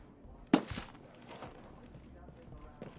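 Sharp, close gunshot crack in Ghost Recon Breakpoint, one loud report followed by a quick echoing tail and a few fainter distant pops, with voices talking quietly around it.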